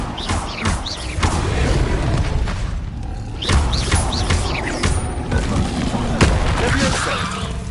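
Incendio fire spell cast in the Hogwarts Legacy video game: dense, busy bursts with repeated booms and thuds, steady in loudness and layered with other game sounds.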